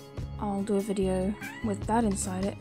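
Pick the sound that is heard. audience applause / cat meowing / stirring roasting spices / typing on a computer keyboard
cat meowing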